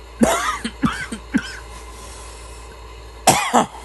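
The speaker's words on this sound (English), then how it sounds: "It's not very often that I cough on camera" Several coughs: three quick ones close together, a pause, then two more harsh coughs near the end, close and fairly loud.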